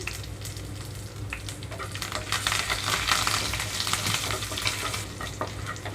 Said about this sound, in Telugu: ఆయిల్ హీట్ అయ్యాక తాలింపు గింజలు అలాగే ఎండుమిరపకాయలు వేస్తున్నాను